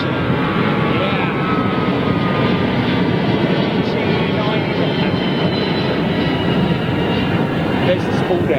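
A jet airliner's engines roar loudly and steadily at London Heathrow Airport, a dense, continuous rumble with no pauses.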